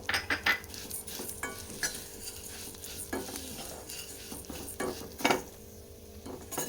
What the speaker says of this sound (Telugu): మిగిలిన నెయ్యిలో వర్మిసల్లి వేయించుకుందాం